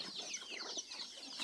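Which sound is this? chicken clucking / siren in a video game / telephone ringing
chicken clucking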